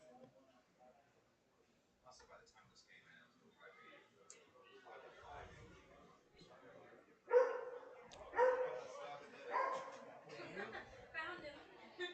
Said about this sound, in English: Someone's not happy. Here's some barking.